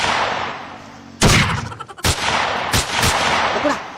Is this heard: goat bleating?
no